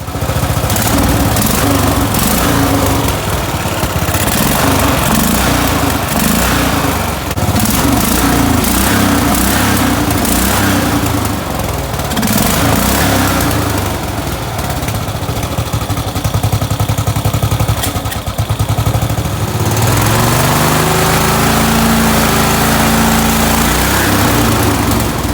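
A racing lawn mower engine roars loud and close at full throttle for most of the stretch, clattering and buzzing steadily, then drops back to a lower, uneven idle near the end.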